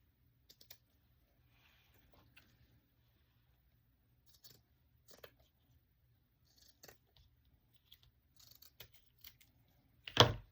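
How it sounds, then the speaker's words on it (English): Scissors trim the edge of a piece of boho craft material in a quiet room, giving sparse, soft snips spread over several seconds, with a sharper, louder cut right at the end. "We cut the edge of this off, trim it up even."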